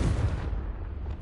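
A Confringo spell blast goes off in Hogwarts Legacy, a short, loud, low booming burst that rumbles and fades over about a second, heard alone without talk.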